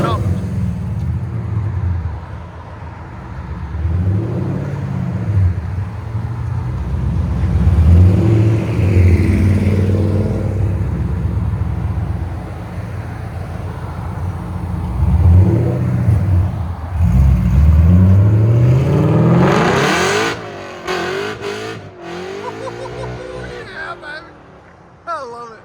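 A 1992 Ford Mustang LX with a swapped Coyote 5.0L V8, long tube headers, Magnaflow mufflers and Flowmaster cats revs in throaty bursts, climbing and dropping several times, with people talking over and between the revs.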